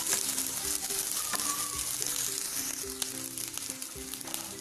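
Sliced white parts of spring onion hit a hot pan for a bread veg chilli manchurian, giving a steady, close frying sizzle throughout with soft tonal background sounds underneath.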